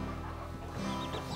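A hen clucks softly beside her baby chick, low, close murmuring sounds with a few faint higher peeps over a steady background.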